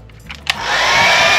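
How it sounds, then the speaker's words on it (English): A hair dryer in a cruise ship cabin clicks on and settles into a steady, loud, close whooshing roar that holds to the end. "Hair dryer."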